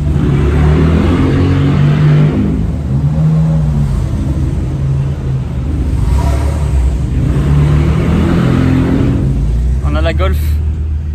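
A car pulls out of a parking lot, its engine rumbling loudly and steadily up close with mild revving; people talk over it.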